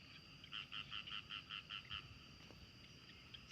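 Frogs croak after rain in a rural rice-growing area, giving a quick rhythmic run of about eight faint, close croaks over quiet background noise.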